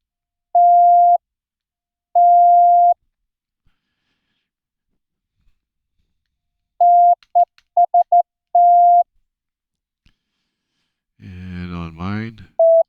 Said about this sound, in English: So here's what it sounds like.